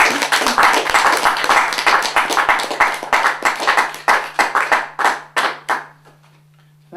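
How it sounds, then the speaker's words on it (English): A small audience at a poetry reading claps steadily between poems, the applause thinning out and fading to a few scattered claps before stopping. "I'm not used to a lot of applause between poems"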